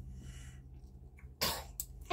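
A baby sneezes once, a short bright burst near the end, with a second smaller burst just after, over quiet room hum.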